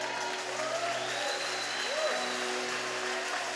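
A church congregation applauds steadily and continuously, a dense wash of clapping, with sustained musical tones held underneath throughout.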